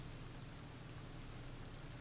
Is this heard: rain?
yes